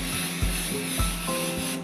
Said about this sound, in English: We will simply spray